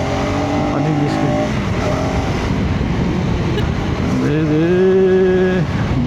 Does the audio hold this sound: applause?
no